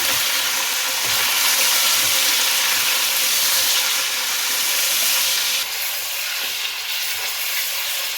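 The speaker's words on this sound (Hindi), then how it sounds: "चिकन को इसमें भून लें।" Chicken fries in a pan with garlic, ginger and masala for a chicken and chickpea curry, giving a steady, loud, close frying hiss that holds throughout and eases slightly near the end.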